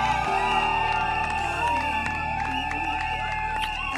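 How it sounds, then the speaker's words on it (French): Wedding guests cheering, with shouts and whoops rising over strong, sustained tonal music in a busy reception hall. Clapping is not distinct beneath the music. "Applaudissez!"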